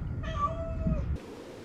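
A pet cat at home, recovering from a tooth extraction, lets out a single clear, close meow lasting about a second, followed by quiet room tone.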